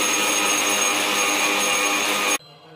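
An electric mixer grinder whirs loudly and steadily while grinding roasted gram, nuts, coconut and sugar for a laddu, a high motor whine with gritty churning that stops abruptly near the end.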